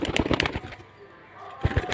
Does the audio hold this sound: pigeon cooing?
yes